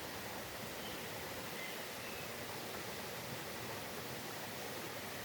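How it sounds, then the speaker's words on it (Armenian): A cold mountain spring flows in a wooded natural setting near Khustup, Kapan, a faint, steady, even rush of water running without a break. "աղբյուրը,"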